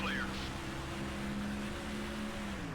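Stock car engine revving past 9,000 RPM in NASCAR Thunder 2004, a steady high-revving drone holding a sustained tone, moderately loud and continuous under a brief chirp at the start.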